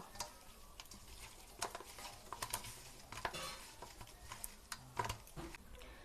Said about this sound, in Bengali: প্রথমে মাছের মধ্যে দিয়ে দেব লবণ, হলুদ গুঁড়ো, ভালো করে মাখিয়ে নেব